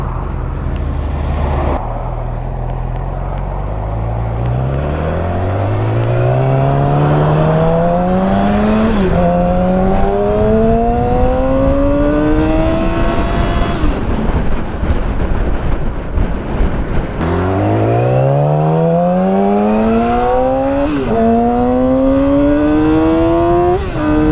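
A 2007 Yamaha R6 motorcycle engine fitted with a Power Commander 5 revs loudly and repeatedly, climbing through the gears to high RPM with rising whines, then dropping back and climbing again.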